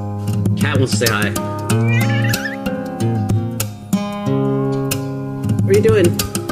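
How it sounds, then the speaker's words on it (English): A cat meows a few times close by, short rising calls heard over fingerstyle guitar music, with people talking. "Cat wants to say hi."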